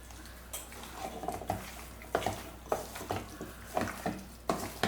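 Food being mixed by hand with salt in a pan, a series of soft, irregular stirring and scraping sounds at close range, fairly quiet, with no talking.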